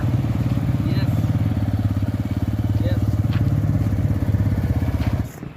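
A TVS Raider motorcycle engine runs steadily up close, a low throbbing rumble that holds constant throughout before cutting off near the end.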